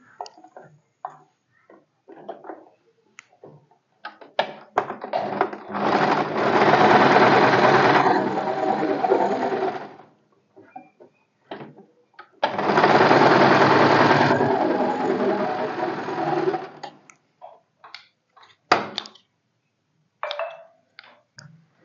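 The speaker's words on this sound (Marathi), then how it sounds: "मी इथे झिगझॅग शिलाई मारून घेते" A sewing machine running zigzag stitches through rough blouse fabric, two long steady whirring bursts of several seconds each, close and loud, separated and surrounded by clicks and handling of the cloth.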